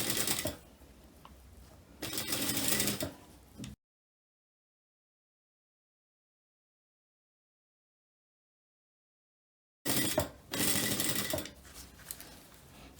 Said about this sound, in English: So as we are sewing, I'll use my hand to push the teeth open